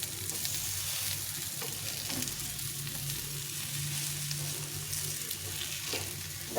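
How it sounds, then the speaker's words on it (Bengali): Banana flower fritters fry in a pan of hot oil, a steady close sizzle and crackle running throughout with occasional soft scraping as they are pressed down and turned. "এটাকে উল্টো দিয়ে এরকম করে চেপে চেপে ভেজে নিতে হবে"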